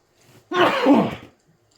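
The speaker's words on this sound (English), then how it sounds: "I got a sneeze building up." A person lets out one sneeze indoors, a single loud, breathy burst close up after a faint intake of breath, then quiet.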